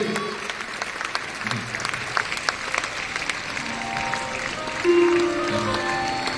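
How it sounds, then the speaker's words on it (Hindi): Loud applause from an audience at an achievers' event in New Delhi, sustained dense clapping with a voice talking over it and a brief louder swell toward the end. "एक बार आप लोग जोरदार ताली बजाते रहिए"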